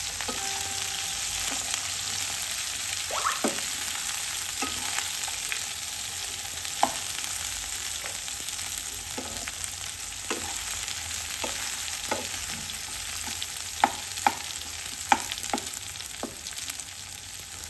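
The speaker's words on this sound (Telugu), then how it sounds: "ఓకే అండి, స్టవ్ తగ్గించండి, బీరకాయ ముక్కలు వేసాను." Ridge gourd pieces frying in a pan on a lowered stove, a steady hissing sizzle with scattered light clicks and stirring taps throughout, close and even, no voices.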